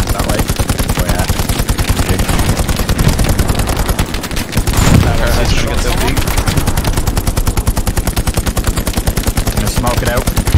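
Rapid, loud, continuous machine gun fire in a video game battle rattles steadily for the whole stretch, near and unbroken, with a brief heavier burst partway through.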